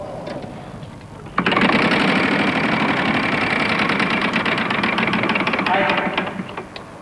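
The big prize wheel on the 1996 French Wheel of Fortune game show spins with a sudden start, then a steady rushing whir carrying rapid clicks that slowly fade as it slows. Studio voices are heard before and around it.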